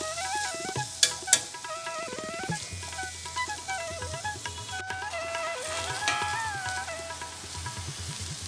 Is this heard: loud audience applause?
no